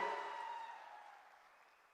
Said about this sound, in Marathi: दादासाठी एकदा जोरदार टाळ्या मनापासून मी वाजवतो.